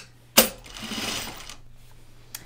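A sewing machine catches on a fabric seam: a sharp click, then a short whirring burst that fades, and a faint tick near the end.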